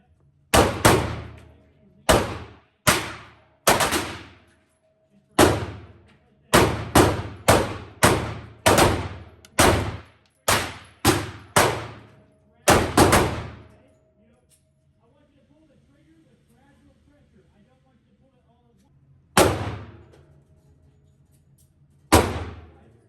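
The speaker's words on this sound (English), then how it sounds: "We're gonna go ahead and shoot this PSA Micro Dagger left-handed." Sharp, loud pistol shots from a PSA Micro Dagger handgun fired left-handed, both two-handed and one-handed. About a dozen shots crack in quick bursts, then a pause with a few quiet handling sounds, and two final shots.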